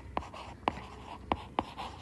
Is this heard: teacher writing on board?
yes